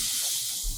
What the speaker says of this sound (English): the little hiss of the steam